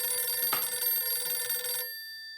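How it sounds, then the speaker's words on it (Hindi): A telephone rings with a bright, steady electronic trill, loud and up close, sounding continuously for about two seconds before cutting off and leaving a faint tone. "दया का फोन।"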